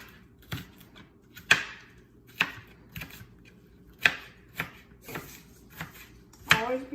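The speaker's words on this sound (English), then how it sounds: "So you're going to chop up the onion fine too." Knife chopping an onion fine on a board for chicken salad, sharp distinct chops in an uneven rhythm, about eight strikes, close and clear against a quiet background.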